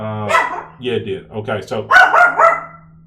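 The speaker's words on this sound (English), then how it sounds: "I'm sorry, that's my dog." A pet dog barks in a home while someone talks over it, the yaps sharp and fairly close, tangled with his speech through the short stretch.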